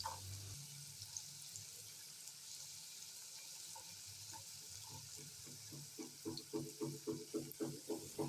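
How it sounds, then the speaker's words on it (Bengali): Chopped carrots and green chillies stirred in a pan while making semolina upma: a steady frying hiss underneath, then a run of regular scraping, clinking stirring strokes growing louder toward the end. "এবার এগুলোকে মিনিট দুই নেড়ে চেড়ে নিচ্ছি"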